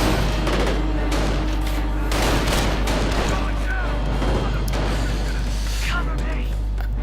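Rifle and machine gun fire in the World War II strategy game Company of Heroes crackles in rapid bursts with booming blasts, loud and busy, while a voice talks over it.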